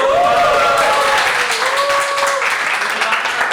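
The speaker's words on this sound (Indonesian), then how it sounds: "Tepuk tangan." A loud, dense roar of crowd applause from an audience at a live fan talk show about Manchester United, sustained throughout, with shouting and whooping voices rising over the clapping.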